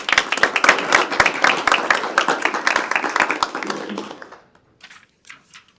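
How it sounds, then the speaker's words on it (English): Round of applause from the audience at a Georgia Department of Education state board meeting, dense clapping for about four seconds before it fades to a few scattered claps. "Let's give them another round of applause."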